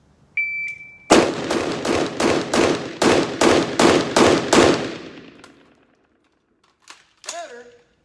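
Rapid string of about nine loud, close gunshots from a Palmetto State 10.5-inch AR-style pistol with nitride barrel and bolt carrier group, evenly spaced at roughly three per second, followed by a sharp electronic timer beep.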